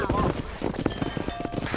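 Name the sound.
horse hooves in video game Red Dead Redemption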